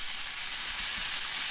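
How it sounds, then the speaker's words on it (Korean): Dakgalbi of spicy chicken, sweet potato and perilla leaves keeps sizzling in a hot cast-iron pan after coming off the heat, a steady, close, even frying hiss running unbroken with no talk. "불에서 꺼냈는데도 아직도 저렇게 지글지글 하고 있어요."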